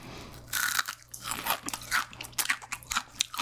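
Close, crisp crunching of a crispy fried snack eaten as a beer side dish, with repeated bites and chewing in an uneven rhythm and no talking.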